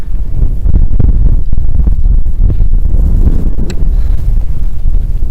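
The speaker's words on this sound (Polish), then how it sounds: "Im wyżej idziemy, tym silny wiatr." Strong gusty wind buffets the microphone during a mountain climb in the Ural Mountains, a loud, continuous low roar with rising and falling gusts and no talking.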